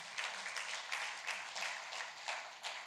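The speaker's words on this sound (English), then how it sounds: "I think we deserve a round of applause for that." Conference audience at an annual international industry gathering claps in a soft, distant patter with a few louder swells, heard faintly from across a large hall.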